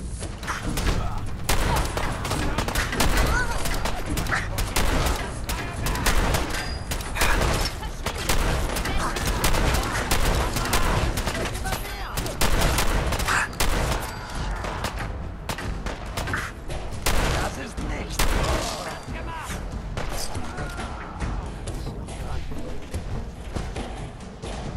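Rapid gunfire in Fallout 4, dense bursts of loud shots crackling almost continuously with brief gaps, close and sustained, with faint talk underneath.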